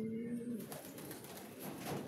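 Pigeons coo softly at a roost as they return home, a faint low murmur in the distance under a steady background hum.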